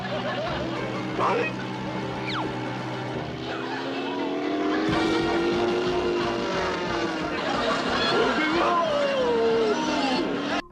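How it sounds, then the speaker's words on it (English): A cartoon propeller airplane engine drones and revs under a narrator's voice, with whooshes and sound effects layered over the continuous buzzing motor. "Shaggy and Scooby decided to hide in the seats of a propeller airplane, but end up starting it by mistake"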